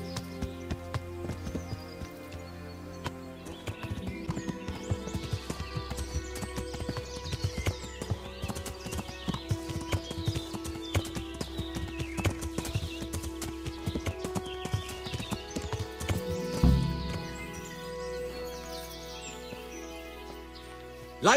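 Horse hooves clip-clop steadily at a close, even pace through a medieval Kingdom Come: Deliverance game scene, with a brief neigh near the end and faint birdsong in the background.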